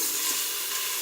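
Carrots and mushrooms hitting a hot dry pot, a loud close hissing sizzle that holds steady and bright for a moment without pause, no voices.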